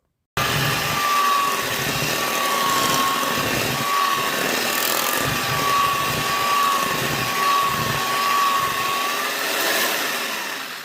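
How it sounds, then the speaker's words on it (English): An electric mixer whirs steadily and loudly through chocolate cheesecake batter with espresso and cocoa, a continuous motor drone with a faint pitched whine and slight surges as the beaters work the bowl. "Let's get this mixed up."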